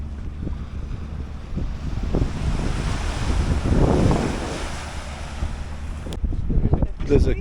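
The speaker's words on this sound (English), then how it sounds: "it's a nice beach" Surf washing onto Santander beach with wind buffeting the microphone, a steady broad roar that swells in the middle and rises again near the end, with some low talk mixed in.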